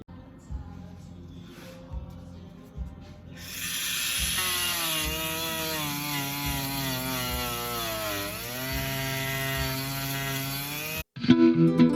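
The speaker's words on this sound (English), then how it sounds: "there's the first section I've done using the Dremel" A Dremel rotary tool fitted with a 3M scouring-pad ball head abrades a 1984 Honda CBX750 motorcycle part, whining up after a few quiet knocks and grinding steadily with shifting pitch before cutting off abruptly near the end.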